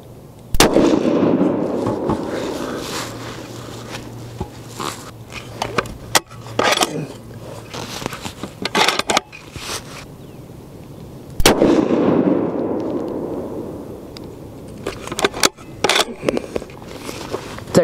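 Remington 700 ADL bolt-action rifle in .30-06 with an MDT XRS chassis firing Nosler Trophy Grade 165-grain Partition ammunition, two loud sharp close shots several seconds apart, each followed by a rolling echo, with bolt and handling clicks between.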